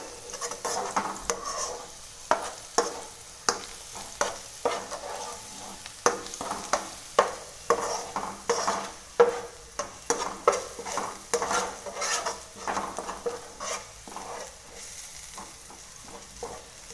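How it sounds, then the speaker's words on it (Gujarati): Garlic sautés in hot oil in a pan for lasaniya mamra, a soft sizzle under regular scraping and stirring strokes of a spoon against the pan, repeated in a steady rhythm with no talk. "આપણું જે લસણ છે તે સરસ મજાનું સતળાઈ રહ્યું છે"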